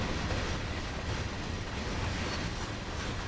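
A train in the game Train Sim World, on CSX Heavy Haul, rumbles past with a dense, steady roar and a faint clickety-clack, loud and continuous throughout.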